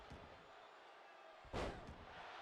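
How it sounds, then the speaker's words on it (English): A single heavy body slam thuds in the WWE 2K25 video game as Nia Jax slams her opponent, a brief booming impact over a steady wash of arena crowd noise. "Nia Jax slamming her down repeatedly."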